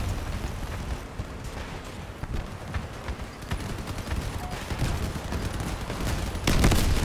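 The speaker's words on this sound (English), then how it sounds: "This guy is using machine guns and cannons?" Rapid bursts of machine gun and cannon fire in a video game battle with Imps, crackling near and far with sharp overlapping shots, swelling to a heavier blast near the end.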